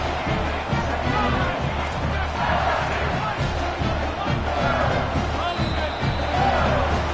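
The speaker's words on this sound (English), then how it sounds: "they are on their feet, yelling, screaming" A stadium crowd at an LSU football game roars and screams continuously, a dense, loud wall of yelling that persists through the whole stretch, with a commentator talking over it.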